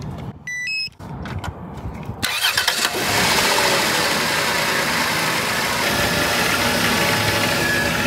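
A van engine cranks and catches after a couple of seconds, then settles into a loud, steady idle, preceded by a few short electronic beeps.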